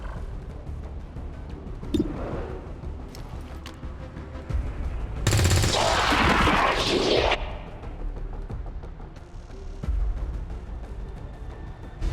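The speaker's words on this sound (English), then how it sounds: "I guess I have no choice but to fire." Gunfire in the video game XCOM 2 bursts out in a loud, dense volley lasting a couple of seconds, surrounded by quieter ambient game sounds and scattered thumps, with no talk.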